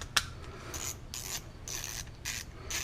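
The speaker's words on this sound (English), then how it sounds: "Now the ratchets are 90 tooth," A Milwaukee 90-tooth ratchet clicks in quick, fine bursts, several short runs of close, crisp ratcheting separated by brief pauses, heard alone.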